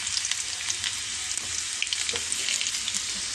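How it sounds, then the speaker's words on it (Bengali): Garlic frying in hot oil in a pan gives a steady, close sizzle and crackle with light stirring clinks and small pops throughout, with no talking. "এই যে রসুনটা দিয়ে দিলাম,"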